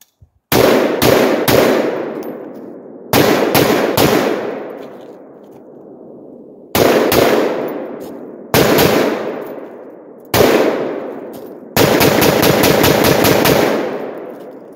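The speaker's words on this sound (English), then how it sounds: "So we're gonna fire some shots here." Palmetto AR-10 Garrison rifle fired at dusk in loud, sharp bursts of rapid shots, six groups of two to several cracks each, each followed by a ringing echo tail that fades, with no talking.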